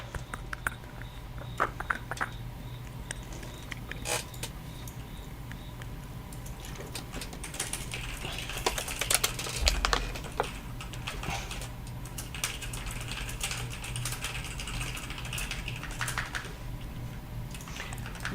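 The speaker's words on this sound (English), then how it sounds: "He's typing things." Computer keyboard typing runs as irregular clicks and taps across a noisy room, with a steady low hum beneath and no speech.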